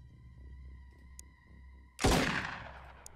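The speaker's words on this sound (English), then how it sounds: "I think gunfire will break it, and you do not need grenades." In the Xenonauts video game, a steady electronic hum with tonal drones gives way to one sudden loud burst of gunfire aimed at a door, followed by a decaying crash and a faint click near the end.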